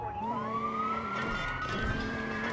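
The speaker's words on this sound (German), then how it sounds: "dass ich jetzt hier die Sirenen wieder angemacht habe" Police car siren in the Watch Dogs video game, a rising electronic wail that sweeps upward steadily and stays loud and close over a continuous rumble of game traffic, with no voices over it.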